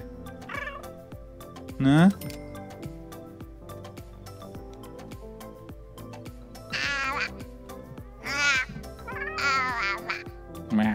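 Cat meows from The Sims 4 jungle adventure game, several short mewing calls spread through the clip over background game music, with a person talking briefly.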